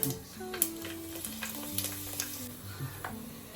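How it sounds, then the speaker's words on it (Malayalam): Mustard seeds, urad dal and dried red chillies crackle in hot sesame oil for a Kerala star fruit pickle, a steady near sizzle with scattered pops under faint metallic kitchen tones. "എണ്ണ ചൂടായി അപ്പം അമ്മ അതിലേക്ക് ഇതാ കടുക് ഇട്ട് കൊടുക്കണം"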